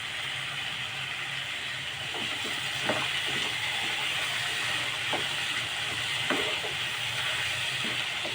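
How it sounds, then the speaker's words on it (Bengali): Onion and potato frying in mustard oil with turmeric and salt, a steady moderate sizzling hiss with occasional soft stirring clicks, close and continuous. "সর্ষে তেল দিয়ে পেঁয়াজ আলু একসঙ্গেই দিয়েছি, 1 চামচি হলুদ দিলাম"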